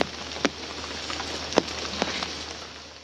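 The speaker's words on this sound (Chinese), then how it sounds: "哎呀，下雨了" Steady rain hisses across the whole moment, with a few sharper drops or patters standing out briefly, moderately close and with no talking.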